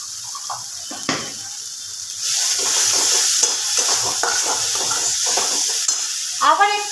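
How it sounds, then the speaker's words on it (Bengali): Water poured into a sizzling pan of mutton keema curry, the frying hiss swelling loudly and then settling into a steady bubbling sizzle with light stirring, no voice over it. "আবার একটু আমি সামান্য জল দিয়ে দেবো।"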